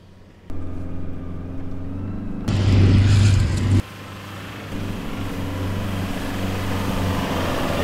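A Toyota Hilux on lowered tyre pressures drives off-road, a steady engine drone that swells into a louder, harder-working surge for about a second before settling back to a continuous rumble with rattling.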